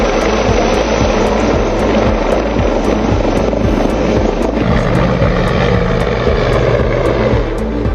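Helicopters flying over hills during a search operation for a militant near Pahalgam produce a loud, steady rotor drone with rapid, even blade chopping throughout.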